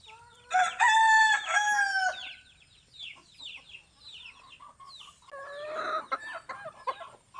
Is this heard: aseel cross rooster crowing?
yes